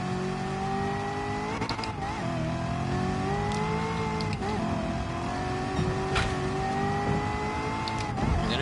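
Race car engine in the video game Gran Turismo 7 revs and accelerates through gears, pitch climbing and dropping with shifts and lift-offs, continuous and fairly loud with occasional tire noise.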